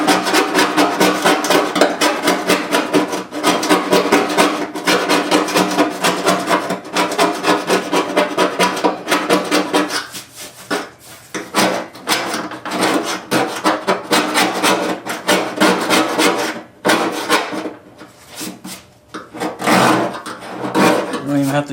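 A scraper with a beveled end scrapes paint off the metal tailgate of an F100 truck in repeated rapid rasping strokes, harsh and close, with a brief pause partway through.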